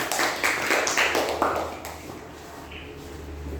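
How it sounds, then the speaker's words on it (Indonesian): A short round of applause for group A in a classroom, a few seconds of quick hand claps from students that fade out into quiet room noise. "Silakan kasih tepuk tangan dulu buat kelompok A."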